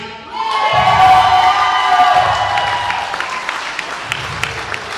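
A crowd at a live wrestling show breaks into loud cheering, whistling and applause that swells quickly and then slowly fades, with scattered shouts and claps continuing at the end.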